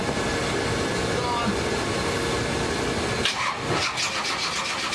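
Firebird with a big block Chevy V8 cranking over: a loud, continuous churning mechanical roar that fills the whole stretch and changes character near the end, with voices faintly underneath.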